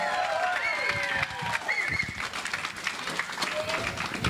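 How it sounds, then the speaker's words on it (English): Applause from an audience at an annual club awards ceremony, a steady wash of clapping that runs throughout, with whoops and a voice or two rising above it. "Big round of applause for NACC Lions."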